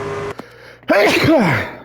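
A person sneezes once, close and loud, with a sharp burst after a brief quiet catch, while racing a car in the NASCAR 25 game over engine-like tones.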